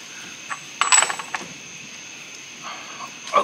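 A wrench tightens a CV axle nut on a Cherokee, producing a short burst of metallic clicks and clanks around the middle, followed by a quieter clink or two near the end.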